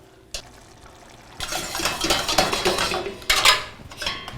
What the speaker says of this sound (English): Let's remove the pasta with a little bit of the water.